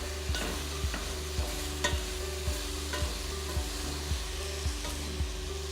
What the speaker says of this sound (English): we are going to just give these one more toss